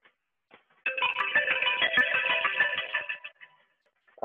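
A phone call notification ringtone plays alone for about two and a half seconds, a bright, buzzy, repeating electronic tone that stops cleanly into silence.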